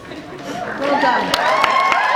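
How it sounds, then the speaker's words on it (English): Audience at a convention panel breaking into applause, a steady wash of clapping that swells and holds, mixed with crowd noise and voices. "I can't believe you're clapping for that."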